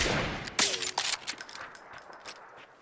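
Bursts of gunfire in the video game PUBG on a winter Erangel map crack in quick, irregular succession, loud at first and then thinning into scattered distant shots that fade out.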